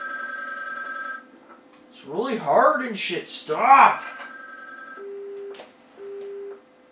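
In a video game, a telephone rings with steady electronic tones, then a voice talks loudly over it, and after the call ends short beeping tones of a hang-up signal follow.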